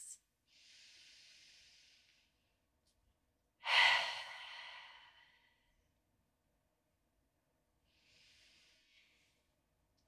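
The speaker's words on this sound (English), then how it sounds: "let's breathe deep into our belly just for a few breaths" Slow, deep belly breaths during a gentle evening yoga session: a soft airy inhale, a louder sighing exhale, then another quiet breath, close and unhurried with no talking.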